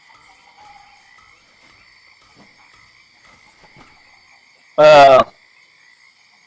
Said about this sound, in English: You hear frogs, you hear bugs, you hear everything that belongs in the swamp.